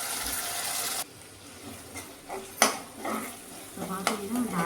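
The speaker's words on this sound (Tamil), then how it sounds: "நல்லா பச்சை வாசம் போகிற வரைக்கும் வணக்கி எடுத்துருவோம்" Ground masala paste frying in oil for soya gravy, soft sizzling with intermittent stirring scrapes and clinks of a spoon against the pan, fairly quiet and close.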